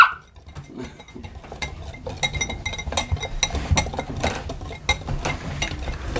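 A spoon stirs an Oreo dirt cup mixture of crushed cookies and pudding in a bowl, producing irregular scraping and clinking against the dish at close range, with soft knocks throughout.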